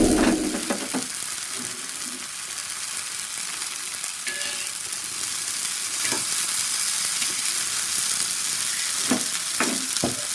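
Pieces of stingray fish fry in oil in a pan with a loud, continuous sizzle throughout, broken by a few sharp scrapes and taps as the pieces are turned, with no voices.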